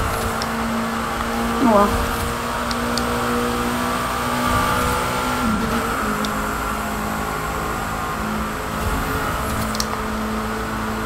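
A Ferrari FXXK or KTM X-Bow in The Crew 2 racing game drones steadily around a track, its engine tone rising and falling through gear shifts, with someone talking briefly over it.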